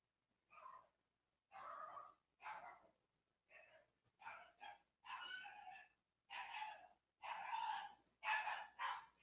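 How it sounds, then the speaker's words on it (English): Dogs barking and yipping in a house during a high-stakes poker game, a series of short bursts spread irregularly over several seconds, faint and distant in the background. "We got some dog battles happening in the background of Marty's house."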